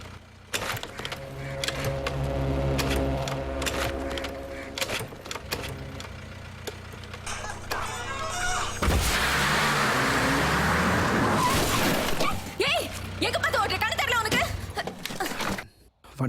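In a Tamil crime film scene, a car is started and driven off: a steady engine drone builds to a louder, noisy rush partway through, with voices talking over it.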